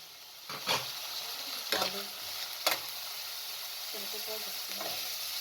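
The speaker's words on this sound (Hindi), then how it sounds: "अब इसके अंदर शिमला मिर्च को मैं शामिल कर रही हूँ।" Sliced capsicum frying in a pan for chicken macaroni, a continuous close sizzle broken by a few sharp scraping stirs of a spoon against the pan, with no voices.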